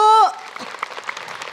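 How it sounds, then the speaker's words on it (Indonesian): After a short burst of a voice, the audience at an Islamic religious talk answers with light, fairly faint applause, a sparse patter of claps that carries on quietly for about a second. "Kasih tepuk tangan dulu dong Bu."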